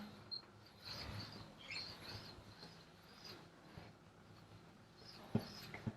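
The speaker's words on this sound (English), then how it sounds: "in order to access the drying rack, we use this rope right here, and we lower it down" A ceiling-mounted clothes drying rack in a high-ceilinged Edinburgh flat is lowered on its rope, giving faint creaks, soft squeaks and a few sharp knocks near the end in a quiet room.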